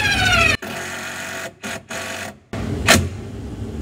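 A power drill drives a screw into an attic ladder shim, its motor whirring loudly in several bursts with brief pauses and a sharp squeal near the end, close up.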